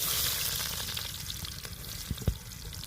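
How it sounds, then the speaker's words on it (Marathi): Onion goes into a pan of frying garlic, giving a soft, steady sizzle with a couple of faint knocks and stirs near the end. "लसूण चांगला शिजलाय बघा आणि आता कांदा पण टाकते"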